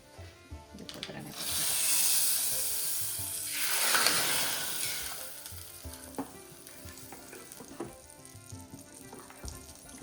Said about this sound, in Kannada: ಇದನ್ನು ಎಲ್ಲ ಈ ಥರ ಚಟಪಟ ಆದಮೇಲೆ ಇದಕ್ಕೆ ಒಗ್ಗರಣೆ